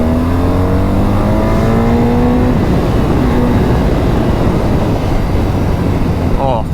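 BMW R 12 nineT motorcycle pulling hard in third gear, engine note climbing steadily in pitch for a couple of seconds then settling into a loud, steady drone with heavy wind rumble.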